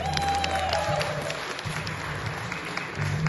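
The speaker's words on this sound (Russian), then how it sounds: "Думаю, это достойно ваших аплодисментов." Audience applause for a 10-year-old performer at a youth band concert, steady clapping from a crowd filling the room for a few seconds with a faint voice underneath.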